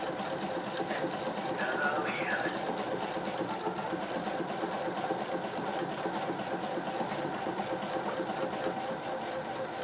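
A Husqvarna sewing machine runs steadily, stitching a buttonhole with a buttonhole foot through fabric backed with stabilizer, a continuous rapid mechanical whir and tapping at close range throughout.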